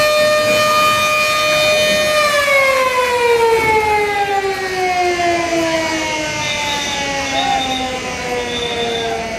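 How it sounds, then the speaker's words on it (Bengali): A loud passenger launch horn at Barishal launch terminal, Bangladesh, blares in one long, sustained harmonic tone that drops slightly in pitch partway through, sounding continuously for the whole stretch. "এদিক দিয়ে হর্ন বাজিয়ে যাচ্ছে শুভরাজ নয়"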